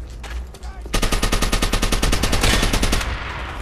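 Rapid automatic gunfire erupts in a video game, a dense burst of evenly spaced shots lasting a few seconds, loud and close, after a few scattered single shots.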